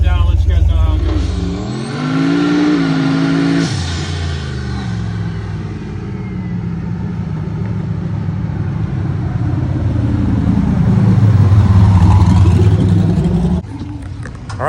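A Cummins diesel drag truck revs and accelerates hard, its loud engine note rising in pitch, dropping with a shift, then building again through a long pull before easing off.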